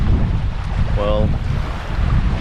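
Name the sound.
strong wind blowing on a boat at sea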